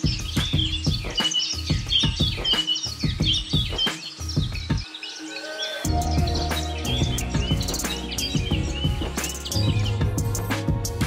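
A large flock of birds chirping and twittering at sunset by the Boral bridge in Bhangura, Pabna, a dense, busy chorus of many overlapping calls, close and loud throughout.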